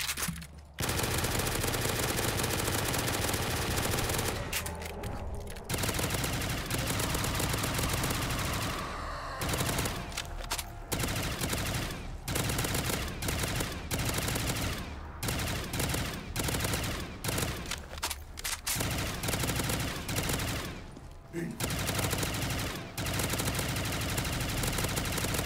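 Sustained automatic gunfire in a Call of Duty Zombies game, dense rapid bursts running almost continuously with only brief gaps, loud and close throughout.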